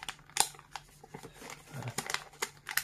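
A folded paper origami crane, a ceremonial congratulations crane, is opened out by hand, giving a run of soft crinkling and sharper paper crackles close to the microphone, with no talk.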